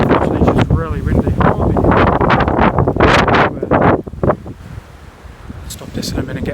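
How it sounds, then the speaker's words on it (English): Strong wind gusts buffet the microphone outdoors on a sunny, blustery day, roaring and rumbling loudly under a person talking, easing toward the end. "I'm sorry if you guys can't hear me, it's a bit choppy, it's because of the wind"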